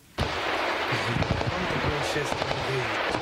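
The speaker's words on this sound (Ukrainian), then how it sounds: "Стріляють з крупнокаліберних кулеметів." Rapid bursts of heavy machine gun fire crackle and thud in an irregular rhythm, sustained at a steady loud level outdoors, with faint voices mixed in.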